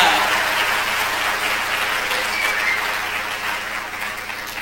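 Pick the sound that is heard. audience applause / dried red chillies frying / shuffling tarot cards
audience applause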